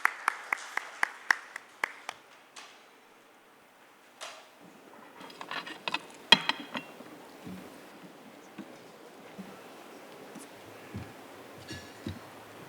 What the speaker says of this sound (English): Round of applause for our moderator and speakers